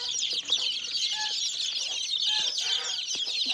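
Hens shut inside a village coop cluck in soft, scattered calls beneath a steady hiss of background noise. No voices can be heard.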